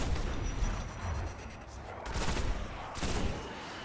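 Gunfire from a weapon in the video game Destiny, a dense rattling barrage with bursts of sharper shots near the middle and end, loud and continuous with no talk.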